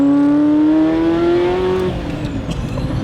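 A Ferrari F40 engine on overrun while driving, a falling whine fading into crackly rumble and pops, loud and close with no talk.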